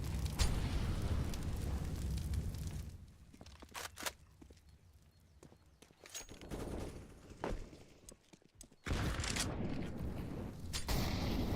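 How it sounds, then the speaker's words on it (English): Grenades go off during a Counter-Strike match at IEM Sydney 2023, with bursts of explosions and gunfire broken by quieter gaps of footsteps and scattered shots, loud at the start and end. "A lot of nades being thrown in"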